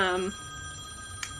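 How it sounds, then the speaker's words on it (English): A mobile phone rings with a brief trilling electronic tone at the start, then fades into a quiet room with a faint click near the end. "that's my phone."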